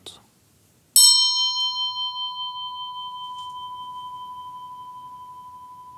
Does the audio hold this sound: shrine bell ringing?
yes